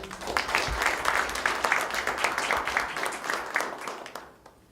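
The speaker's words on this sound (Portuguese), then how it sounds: "uma salva de palmas" Steady applause from a panel audience, a dense crowd of clapping that holds for several seconds and then tapers off abruptly near the end.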